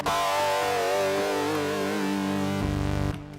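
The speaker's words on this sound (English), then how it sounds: "Here, square distortion." A buzzy synth lead from the Rob Papen BLUE-3 synthesizer with a square distortion preset and harsh square-wave distortion plays a sustained, wavering melody, dropping to a lower note near the end before cutting off.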